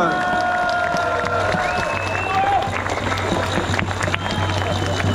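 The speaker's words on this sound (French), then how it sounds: "Je vous prie d'applaudir M. Charles-Henri Gallois de Génération Frexit" A crowd at an outdoor rally against pension reform and for peace at Port Royal claps and cheers loudly and steadily, with scattered whistles and shouts over the dense applause.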